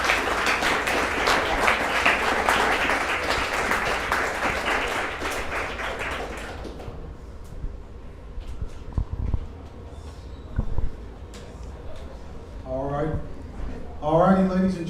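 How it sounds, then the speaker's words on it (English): An audience applauds after a debate with dense, loud clapping for about six seconds before it dies away, followed by quieter room noise and someone speaking. "let's give a round of applause before we start the Q&A"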